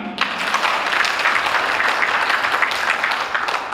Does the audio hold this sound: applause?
yes